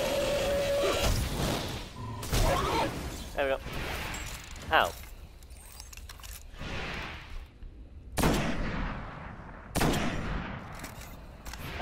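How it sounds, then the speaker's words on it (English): Weapon fire while shooting a goblin in the video game Destiny, a scattered burst of shots and impacts mixed with game effects, with a person talking over much of it. "I didn't mean to shoot that goblin, funny enough."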